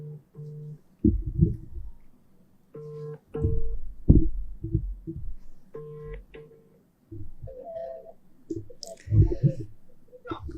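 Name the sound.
telephone ringing during a call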